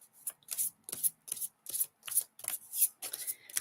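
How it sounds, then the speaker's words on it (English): Tarot cards are shuffled in quick, regular bursts of crisp riffling and sliding, about nine close, distinct strokes in a steady rhythm with no talk. "shuffling these babies, picking up on energy"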